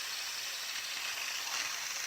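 Steam hisses steadily from a cooker lid while a spicy Italian stew cooks, a soft continuous rush with no talking.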